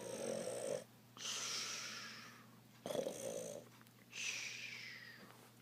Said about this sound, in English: Could you stop all the snoring?